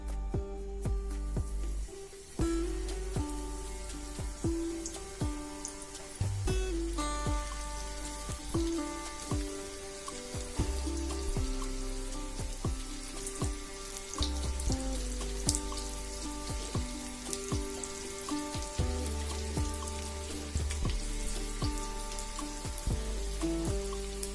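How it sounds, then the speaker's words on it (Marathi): Okra (bhindi) frying in hot oil for a crispy dish, a steady crackling sizzle that stays close with a crisp, rain-like patter, broken by occasional clinks and stirring thumps from the pan, with no talking. "आता आपण भेंडी तेलात सोडूया"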